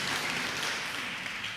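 Congregation in a church applauds together, a soft, continuous wash of clapping heard from some distance, steady and unbroken for a brief moment.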